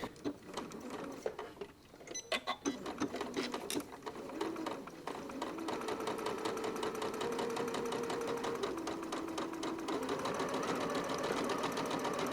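A sewing machine back stitches a zippered welt pocket. It starts with a few short, uneven stitching bursts, then settles into a steady, continuous mechanical whir that runs close and alone to the end.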